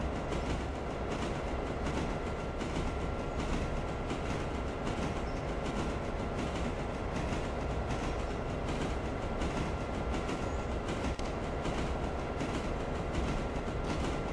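Train rolling along track in the railway simulation game Railroader, a steady dense rumble and rattle of wheels and cars, loud and continuous throughout with no speech.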